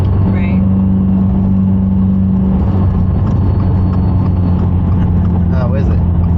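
A Subaru WRX riding on stiff coilovers rolls through a residential subdivision under construction, its engine holding a steady low hum with road rumble, while people talk inside the cabin throughout.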